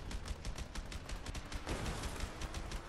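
Rapid gunfire in a survival-horror video game, dense continuous crackle of shots sustained across the moment with a heavy low rumble, loud and close, no voices.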